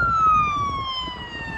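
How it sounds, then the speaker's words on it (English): An ambulance siren wails in a long, steady tone that slowly falls in pitch, fairly close and loud, with traffic rumbling underneath. "It was an ambulance."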